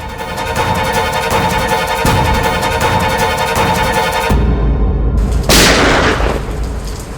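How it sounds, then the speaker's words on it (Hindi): A loud, sharp blast bursts out over a constant rushing downpour, a single shot that cuts through the steady rain noise. "ये कहीं गोली चली है।"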